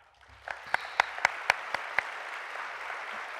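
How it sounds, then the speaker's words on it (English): A short burst of audience applause at an awards luncheon, several distinct, fairly sparse claps ringing out close together, then fading into room murmur. "Please join me in giving a round of applause to Steve Stockton."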